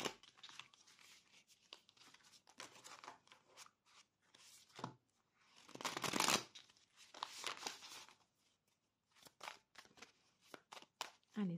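A tarot deck is shuffled for a reading, with soft riffling and crinkling bursts at intervals and a louder flurry in the middle. Quiet talk sits faintly alongside the handling.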